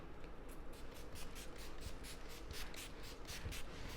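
Setting spray misted onto a face in a rapid series of about a dozen soft, hissy spritzes, evenly spaced and quiet against a low background hum.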